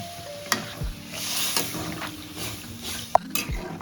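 A small splash of water goes into a pan of fish roe kosha, and the mix sizzles and bubbles while a utensil stirs and clinks against the pan with a few sharp knocks.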